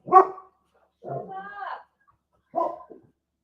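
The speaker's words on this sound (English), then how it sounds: "have to ignore the dog." A dog gives three separate barks with whiny, yelping tones, spaced about a second apart, fairly close and clear against an otherwise silent background.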